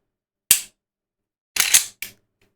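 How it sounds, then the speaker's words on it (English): Gun dry firing, three sharp close mechanical clicks of the trigger and action, one alone then a pair a second later, loud against silence with no voices. "Let's dry fire a little bit."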